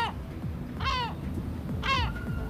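A seagull perched on an office building terrace gives two loud, harsh screeches about a second apart, heard at moderate distance over low background rumble.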